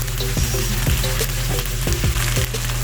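Chicken wings seasoned with pepper and salt are stirred in a hot pan, a loud continuous sizzle broken by regular scraping strokes of the spatula roughly every half second.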